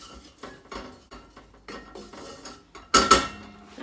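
A spoon scrapes and clinks around a pot while stirring, giving a run of light metallic taps and scrapes that ends in two louder clanks near the finish.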